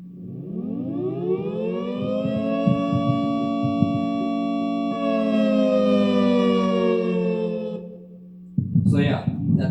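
A civil defense siren sounds with a steady rising wail that holds a loud sustained tone for several seconds, then drops away, followed by a burst of brief noise near the end.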